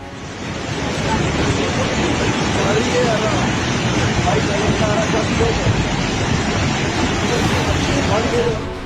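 Flash flood water rushing after a cloudburst in the Sainj valley of Himachal, a loud, unbroken roaring torrent that fills the whole scene, with a faint hubbub of voices buried beneath it.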